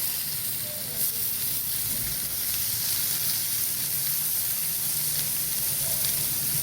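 Potatoes sizzle steadily in a hot pan as tomatoes are tossed in, making a close, continuous frying hiss with faint stirring scrapes and no one speaking.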